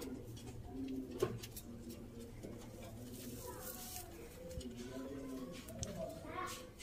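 A female Ferozpuri pigeon gives soft, repeated low coos, fairly faint, over quiet background noise with occasional voices nearby.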